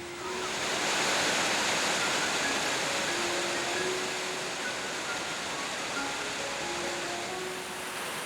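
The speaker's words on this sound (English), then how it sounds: "In the distance there is the River Bolan pouring over the weir." The River Bollin pours over a weir at Quarry Bank Mill in Cheshire, a steady broadband rush of water heard from a distance, continuous and even with faint tonal traces drifting over it.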